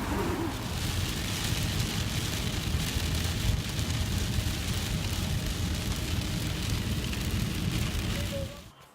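Rain falling outside, a steady, dense hiss of drops on surfaces that holds evenly for several seconds before fading at the end.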